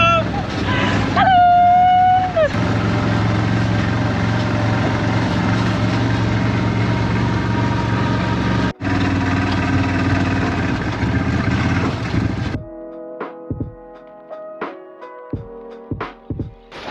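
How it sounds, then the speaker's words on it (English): A buggy engine drones steadily and loud while driving through a village of coloured houses and cobblestone streets on Sal, Cape Verde, with voices and greetings over it before the motor cuts out near the end. "I can't believe that we're driving through on a buggy."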